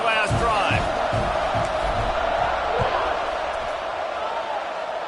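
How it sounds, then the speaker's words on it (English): A football stadium crowd at a college game between SMU and Miami roars steadily at kickoff, a dense far-off wash of cheering and whoops with a few thumps near the start. "this crowd is feeling themselves after that last drive"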